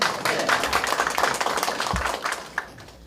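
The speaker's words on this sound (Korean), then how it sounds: "덕재한테도 박수 한번 해보시죠" Applause at a commemoration and medal ceremony for the 5.18 Democratic Uprising UNESCO listing: a small crowd claps briskly in close, uneven strokes that thin out toward the end, with one sharp clap standing out near the finish.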